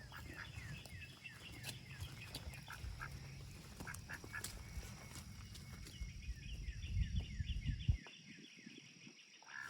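Ducks quack repeatedly in a busy outdoor scene, with rustling and shuffling noises and a louder burst of movement near the end.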